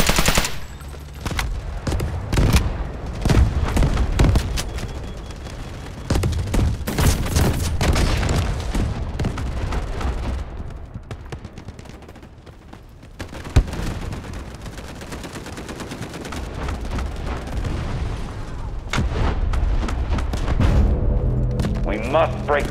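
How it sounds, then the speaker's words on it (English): Sustained battlefield din from the shooter Delta Force Hawk Ops: continuous machine-gun fire mixed with heavy artillery booms in a town assault, loud and dense throughout, with radio voices heard over the fighting. "Artillery ready for barrage."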